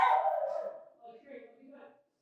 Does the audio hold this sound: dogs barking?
yes